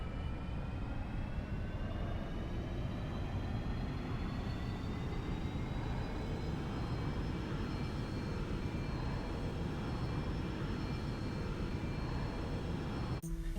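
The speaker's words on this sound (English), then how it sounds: "The next thing I want to point out is the engine sound within GloMo." Simulated aircraft engine in the X-Plane Global Mobile flight simulator game, a steady loud roar with a rising whine layered over it, continuous with no speech.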